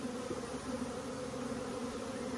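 Bees hum in a dense, continuous buzz around an open beehive while dead bees are cleared out, a steady close drone with no pauses.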